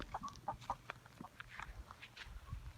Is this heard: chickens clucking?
yes